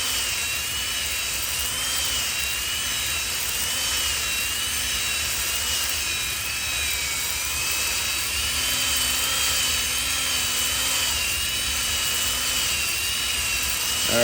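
A drill-driven hone spins inside the engine cylinder of a 1983 XR200R, a steady, continuous high whirring drone with a faint wavering tone, close and uninterrupted.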